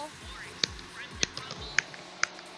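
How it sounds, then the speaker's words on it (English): Four crisp finger snaps, evenly spaced roughly half a second apart, close and distinct against a low background murmur. "snapping your fingers like this"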